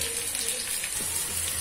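Sweet potato slices pan-roasting in a sugar syrup for a Marathi ratalu chakati sweet, giving a steady, soft frying sizzle with a faint bubbling hiss throughout and no talk.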